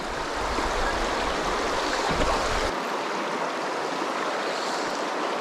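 River water rushes steadily over rocks along an Idaho trout stream, a continuous broadband wash with a rumbling low end that drops away partway through, no voices.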